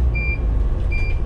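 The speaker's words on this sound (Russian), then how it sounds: "выключу эту пищалку" Electronic warning beeper on a bus leaving the depot: two short, high-pitched beeps about a second apart over a low engine idle.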